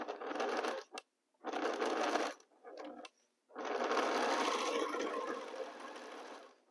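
A sewing machine stitches quilt seams together in bursts: three short runs with brief pauses, then one long steady run to the end.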